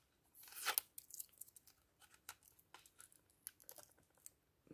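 Tape being ripped off a parcel's packaging in a few short crackly pulls, with one long loud tear near the start followed by smaller sharp rips, close up and quiet, no talking.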